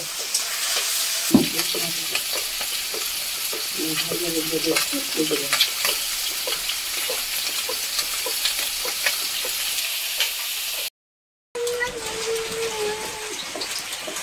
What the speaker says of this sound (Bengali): সব তেলাপিয়া মাছও ভাজা হয়ে গেছে, মাছগুলো ভাজা হয়ে গেছে